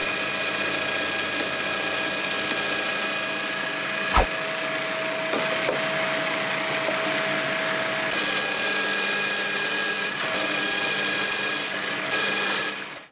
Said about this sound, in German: Also mit dem Forstner Bohrer funktioniert das erst klassisch. Und dann bohren wir halt da mal mit rein.